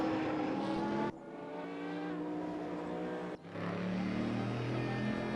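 Race car engine from a racing video game, on the cool down lap at Brno GP, droning steadily with harmonic whine and two brief gear-shift dips, loud and close, no talk.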